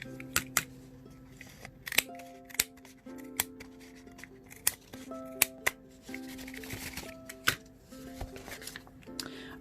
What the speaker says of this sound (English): once I have a row completely finished, I simply just cut that off